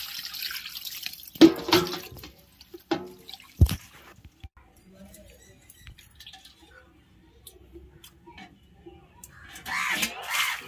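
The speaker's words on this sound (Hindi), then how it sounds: "मछली तीन चार पानी धो लेते हैं बढ़िया से" Water splashes and drips as fish is rinsed by hand, with intermittent sloshing bursts and a louder splash near the end, fairly close.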